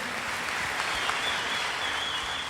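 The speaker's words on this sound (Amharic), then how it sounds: "ኧረ ዘራፍ! አጨብጭቡለት" An audience claps steadily, a dense, even wash of applause that holds at the same loudness for a couple of seconds with no voices over it.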